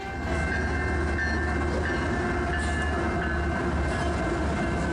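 CitiRail GE Evolution series locomotives haul a freight train past, a steady loud rumble of engines and rolling wagons with faint clickety-clack filling the whole stretch, no voices.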